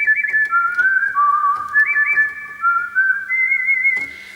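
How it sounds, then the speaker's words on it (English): A Lowrey home organ plays a melody on its whistle solo voice, a pure, sustained whistling line with gliding pitch changes and a soft key click, heard alone without talk. "At the moment, it's got the whistle."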